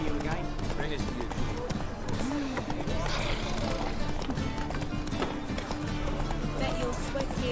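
A horse gallops in The Witcher 3 with steady clip-clop hoofbeats running through a dense, continuous game soundscape, while people talk over it.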